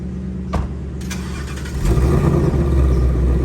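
A Ford Mustang in regular exhaust mode idles close by, then a sharp blip and a surge of revving swell into a loud, rumbling engine roar that holds steady to the end.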